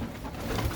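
A pigeon coos softly in a loft, a short low murmuring call close by, with no talking over it.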